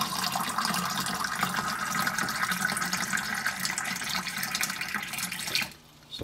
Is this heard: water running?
yes